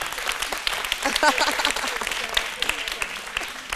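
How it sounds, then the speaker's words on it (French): Audience applause at the 2015 launch event of Wozo Vacances, a sustained wash of clapping from a crowd encouraging a young performer, with a voice talking faintly underneath. "On applaudit pour l'encourager là."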